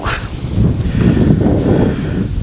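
Steady wind buffeting a microphone at a fishing lake, Scalm Park, a continuous low rumble with gusty swells and no clear voices.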